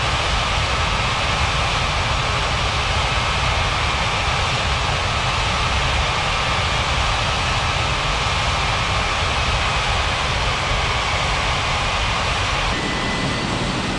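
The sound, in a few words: airplane taking off, from air traffic control video game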